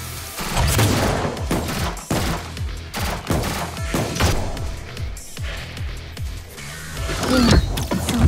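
Support fire in the video game Blue Archive's Total Assault battle against Hyeronimus: a dense fusillade of overlapping shots, thumps and crashes rolling on continuously, loud and busy throughout.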